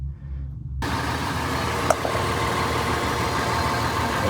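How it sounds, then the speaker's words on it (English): A vehicle engine starts up and idles steadily after an exhaust flange repair, a close, even low rumble with one brief click partway through and no talk. "Let's start it up, see how it sounds."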